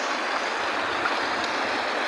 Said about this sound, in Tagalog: Kalakas ng hagos.